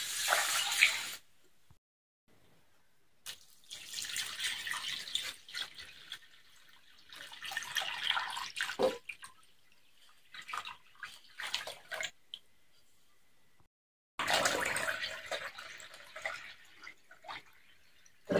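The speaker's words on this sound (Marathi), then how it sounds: "पाणी टाकायचं आहे." Water is poured over moth and moong dal set to soak, coming in several separate splashing bursts with quiet pauses between, close and fairly soft.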